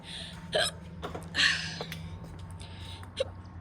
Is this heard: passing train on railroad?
no